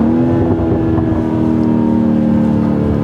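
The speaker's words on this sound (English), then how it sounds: "This engine just sounds so good." A 2021 BMW X3 M40i's B58 straight-six engine with sport exhaust idling steadily, a deep smooth, even drone and harmonic hum, close by and continuous throughout.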